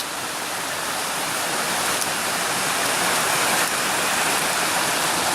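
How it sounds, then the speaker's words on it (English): Small creeks along the Pacific Crest Trail in Washington make a steady, close, full rush of flowing water that barely changes from start to finish. "There is a ton of little creeks along here"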